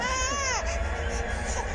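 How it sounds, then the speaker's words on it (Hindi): A baby girl cries in a TV crime drama, a short close wail that rises and then breaks into a falling sob over a low background hum. "अरे बच्ची रो रही है, तुमको दिख नहीं रहा क्या?"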